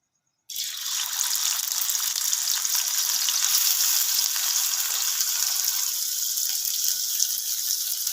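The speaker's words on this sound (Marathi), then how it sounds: "आता त्याच्यावर बारीक चिरलेला कांदा टाकते" Finely chopped onion goes into hot oil in an iron pan over a wood-fired stove, bursting into a loud, steady sizzle after a brief silence and continuing without pause.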